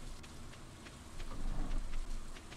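Steady rain patters and hisses over a town in the farming game Stardew Valley, a soft, even wash of drops with no voices.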